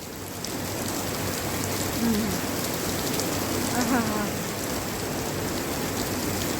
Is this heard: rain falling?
yes